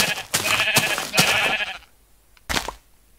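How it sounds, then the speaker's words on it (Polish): Sheep in the Minecraft video game bleat in two close, loud bursts, then a pause before a third short bleat; no talking. "No, bijemy owce."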